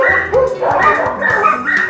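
A dog barks in an animal shelter, with yips and whimpers mixed among fairly loud, close barking and other kennel noise throughout.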